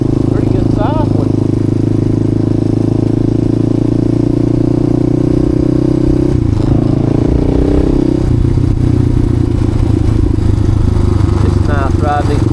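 Suzuki DR350 dual sport motorcycle riding a Forest Service road, its engine droning loud and close with shifts in pitch as it changes speed, under occasional talk.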